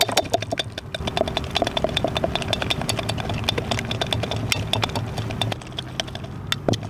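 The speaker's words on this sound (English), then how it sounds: "I got this whisk, got my olive oil. Start whisking it." Wire whisk beating olive oil into fresh homemade mayonnaise for a chipotle aioli, a rapid continuous clicking and rattling against the bowl, steady and close throughout with a low hum underneath.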